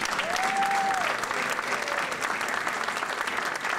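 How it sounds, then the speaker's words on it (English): Steady, dense applause from a large audience at a formal gathering honoring distinguished guests, loud and continuous throughout with a faint whistle near the start. "Let's give a round of applause for the distinguished."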